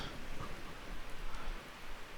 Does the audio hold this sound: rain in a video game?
yes